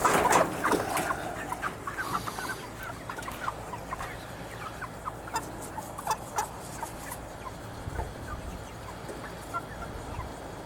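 Backyard chickens cluck and murmur steadily while pecking at a squash plant tossed to them in a garden, a busy, close chorus of short calls with no talking.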